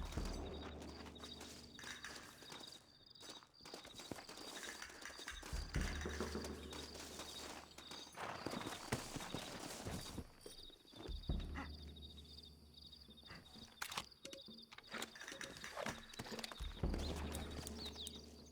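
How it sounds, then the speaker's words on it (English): Horses walk with steady clip-clopping hooves in Red Dead Redemption, the hoofbeats running close and continuous under game ambience and occasional background noise. "Looks like Carlos left us some horses."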